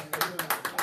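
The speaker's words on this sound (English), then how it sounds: "give Tim a round of applause" A few quick hand claps in a casual conversation setting, about five sharp bursts in a loose rhythm, close and moderately loud, over a faint background hum.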